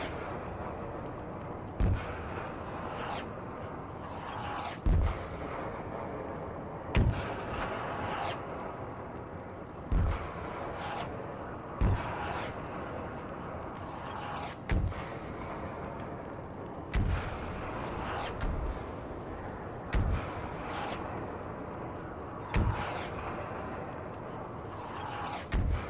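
Gunfire and artillery in a military video game: repeated heavy booming blasts land every couple of seconds over a constant rumbling battlefield din, loud and close, with no speech.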